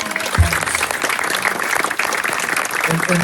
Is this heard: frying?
no